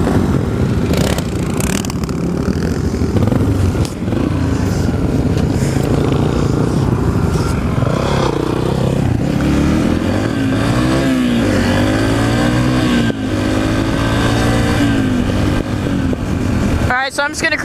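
A Yamaha TTR 125 dirt bike engine drones steadily and close during trail riding, holding a constant loud hum with slight pitch shifts as the rider cruises in fifth gear, a voice briefly talking over it.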